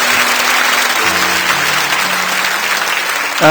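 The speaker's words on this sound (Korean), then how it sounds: "우리 모든 우리 주일학교 또 교역자 또 우리 선생님들 한번 박수로 저 격려해 주시면 좋겠습니다." A Korean church congregation claps warmly for its Sunday school teachers and ministry staff, a full, steady round of applause from many people, with a sustained musical tone running beneath it and a brief bright sound near the end.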